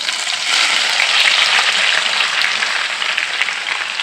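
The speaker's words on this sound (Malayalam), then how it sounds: "നമുക്കിത് കരിഞ്ഞു പോകാതെ നമുക്കിത് ഫ്രൈ ചെയ്ത് എടുക്കാം" Sliced onions fry in hot oil for chicken biryani, a loud, close, continuous crackling sizzle that holds steady throughout.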